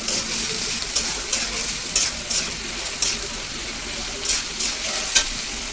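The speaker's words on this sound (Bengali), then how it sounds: "পেঁয়াজটাকে একটু হালকা করে ভালো করে ভেজে নেবেন।" Chopped onion sizzles and fries in a pan with ginger and garlic paste, bursts of stirring scraping through a steady, close hiss with no voices.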